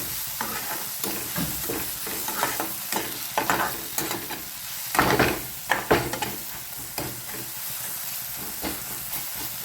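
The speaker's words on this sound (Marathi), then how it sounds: "त्याच्यामध्ये हे सर्व मसाले ॲड करून घेतो. परत एकदा चांगला हलवून घ्या." Browned onion and spices stirred in a pan for a green bean (farasbi) dish, with a steady close sizzle broken by repeated scraping stirs, denser in the middle and easing toward the end, no talk.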